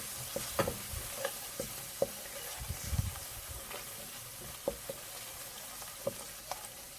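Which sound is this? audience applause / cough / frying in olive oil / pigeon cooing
frying in olive oil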